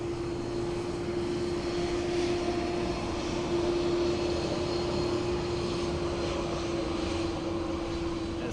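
An aircraft at Dublin Airport produces a steady, fairly faint engine drone with a constant tone, distant and unchanging throughout, with no talk.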